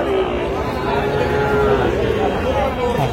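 Cattle at a busy livestock market give a long, loud, close moo over a dense bed of crowd chatter and background talk.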